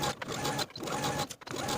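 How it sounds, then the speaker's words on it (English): Sewing machine stitching the first pass of a French seam along the rise of elastic-waist paper bag shorts at a 1/8 inch seam allowance, a steady close mechanical whir running almost continuously with two short pauses. "for the first step of my French seam, I'm going to sew as pinned with a 1/8 inch seam allowance"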